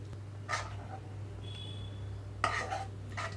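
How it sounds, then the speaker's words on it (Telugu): A spoon clinks and scrapes against dishes as onion chutney is moved into a serving bowl, with a few short bursts of metal on ceramic over a steady low hum and no talk. "ఇంకా నేను సర్వింగ్ బౌల్లోకి తీసుకుంటున్నాను"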